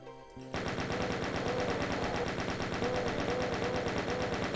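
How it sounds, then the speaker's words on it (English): Chain gun in Doom, Mephisto.wad from the Master Levels, opens after a brief pause into steady rapid automatic fire, each shot stacking into a continuous loud mechanical rattle that holds evenly to the end. "the remainder will use the chain gun"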